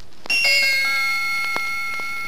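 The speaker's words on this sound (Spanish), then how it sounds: "sabrán que hay que dar vuelta a la página cuando escuchen a Campanita, el hada de Peter Pan, tocar sus campanitas así" A bright cluster of small, high bell chimes rings out and decays over about two seconds, a page-turn cue for a children's story of the three little pigs.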